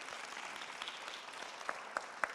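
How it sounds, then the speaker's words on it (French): An audience at a talk event claps steadily in a dense, fairly faint wash of applause, with a few sharper individual claps standing out near the end. "On peut l'applaudir."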